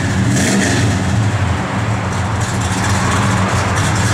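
A 1967 Plymouth GTX Mopar engine revs up close, a loud, deep, sustained rumble that holds strong with no talk over it.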